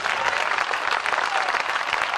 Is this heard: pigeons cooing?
no